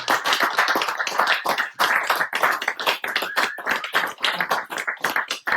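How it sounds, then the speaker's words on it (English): Applause follows a talk, with distinct, sharp handclaps from a small group. The claps land close and loud in a brisk, uneven patter for several seconds. "let's give Alex a huge big kind of applause, and then we'll have a time for Q&A."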